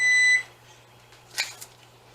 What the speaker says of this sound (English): Let me turn my timer off.